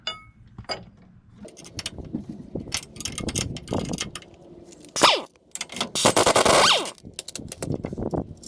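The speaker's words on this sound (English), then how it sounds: "So we're going to be removing the lower bolt." An air ratchet and hand tools remove the lower bolt of a front shock absorber on a 1995 Chevy 2500 4x4 pickup: scattered metallic clinks and clanks, then two loud, longer bursts of the ratchet whirring near the end.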